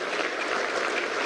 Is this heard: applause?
yes